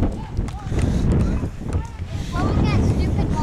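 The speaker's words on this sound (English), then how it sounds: "It's like windy. It's a very windy day." Strong wind buffets the microphone on a windy day beside dark water, a steady low rumble and roar that swells and dips under a person talking.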